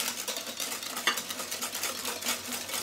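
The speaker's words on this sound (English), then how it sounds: "now we are going to whisk them nicely with the mix of butter and sugar." Close steady whisking of eggs into a butter and sugar mix for blueberry muffins makes a continuous scraping, swishing rattle against the bowl, with one brief sharper clink partway through.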